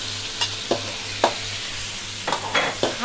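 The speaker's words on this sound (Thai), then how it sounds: "คั่วให้หอม" Chili and garlic paste stir-fried in a pan makes a low, steady sizzle broken by several sharp spatula scrapes and knocks at an uneven pace, close and clear, with no voices.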